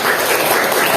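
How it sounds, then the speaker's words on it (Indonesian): Class of students clapping their hands together in a classroom, a dense, steady burst of applause filling the whole short moment. "Tepuk tangan."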